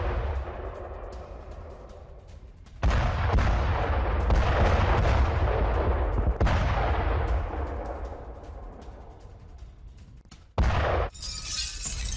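Heavy war-zone fire from a rocket attack on a Buk M2 air defence system, with continuous loud booming and crackling blasts, sharp impacts and shattering bursts rolling over each other, and a brief dropout near the end.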